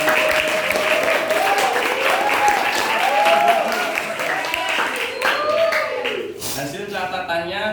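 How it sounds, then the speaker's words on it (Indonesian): Classroom audience clapping, a sustained burst of many hands applauding together for several seconds, with voices and talk mixed in beneath. "Tepuk tangan dulu."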